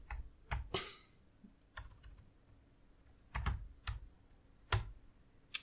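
Bursts of typing on a computer keyboard, clustered key clicks arriving in short irregular flurries separated by near-silent pauses, close and fairly crisp.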